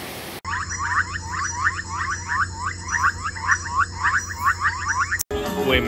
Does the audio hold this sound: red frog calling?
yes